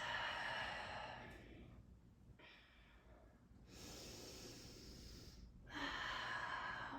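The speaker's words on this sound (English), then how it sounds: "Taking a few deep breaths." Slow, deep breaths drawn and released in a yoga child's pose, soft and close, with about three long airy exhales separated by quieter pauses and no talking.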